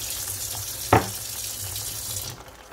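Water runs from a kitchen tap into a bottle, a steady close splashing flow with one brief clunk, cutting off near the end.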